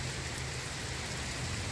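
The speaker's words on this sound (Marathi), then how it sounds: "इतका मोठा पाऊस सुरू झाला." Heavy rain pours down in a US downtown area as a dense, even hiss with no breaks and no voices over the short stretch.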